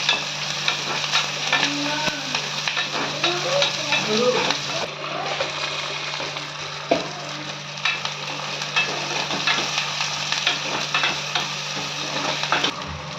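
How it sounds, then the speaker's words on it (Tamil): Seasoning for thattai payaru kuzhambu sizzling as it sautés in hot oil, a continuous crackling fry with occasional spoon stirs and scrapes, steady and close throughout. "கொஞ்சம் வதங்கட்டும்"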